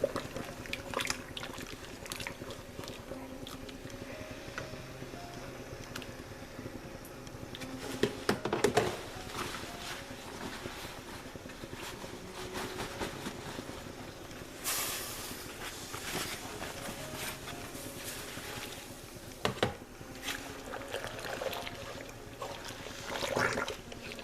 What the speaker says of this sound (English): carefully get it all unfolded and push it down into the dye bath.